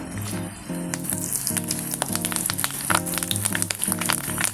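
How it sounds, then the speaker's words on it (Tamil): Mustard seeds splutter while dried red chillies and curry leaves fry in hot oil, a dense continuous sizzle with sharp crackles and pops, close and loud, heard over background music. "கடுகு பொரிஞ்சிருச்சு. 2 வரமிளகா சேர்த்துக்கலாம். கருவேப்பிலை சேர்த்துக்கலாம்."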